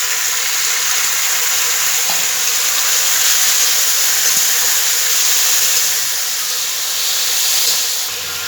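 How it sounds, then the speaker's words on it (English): Tomato pieces frying in a pan with onion browned for aloo tikki chaat, giving a loud, steady hiss and sizzle that runs unbroken throughout with no talking. "then we fry it well"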